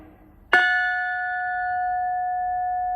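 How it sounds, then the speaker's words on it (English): A single carillon bell, its clapper driven against the rim from a clavier, rings out with one sharp strike and then a clear, sustained tone that hangs and slowly decays. "moves the clapper against the rim of the bell"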